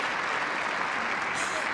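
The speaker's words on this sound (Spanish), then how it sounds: "Mira, el aplauso, mira." Applause from an audience gallery during a public address, a steady, distant wash of clapping that holds evenly throughout with faint voices mixed in.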